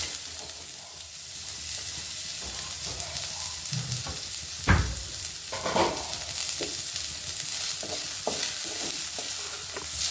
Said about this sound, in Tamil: எண்ணெய் ஊற்றிட்டேன், வெங்காயம் போடுறேன்.